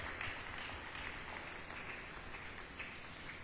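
A church congregation applauds a greeting, a steady patter of many hands clapping at a moderate distance with no voices on top.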